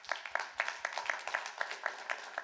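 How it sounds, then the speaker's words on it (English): A small audience gives a round of applause for a speaker at a 5G technology briefing, heard as a quiet, sparse patter of individual claps in a steady rhythm, slightly distant. "And a round of applause for Will."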